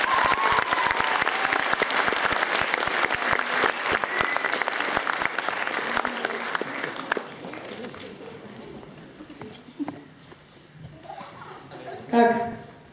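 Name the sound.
audience applause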